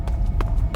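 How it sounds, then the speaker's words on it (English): Steady, evenly spaced footfalls in Metal Gear Solid 3, a few dull thuds close by over a low background rumble. "Hear those footsteps?"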